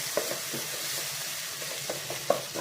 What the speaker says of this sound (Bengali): এখানে আম্মু পেঁয়াজ, কাঁচা মরিচ, রসুন তেলের মধ্যে দিয়ে নাড়তেছে